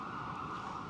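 A New York City emergency siren wails steadily in the distance, a faint, sustained tone carrying over the ambience of Brooklyn Botanic Garden.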